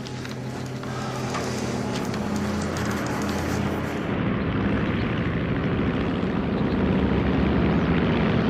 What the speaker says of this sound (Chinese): 不是轰炸机，是一架运输机，在上头兜圈子了